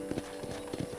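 Horse hooves clip-clop in the video game Red Dead Redemption on Xbox Series X, a faint, quick run of hoofbeats in an uneven galloping rhythm.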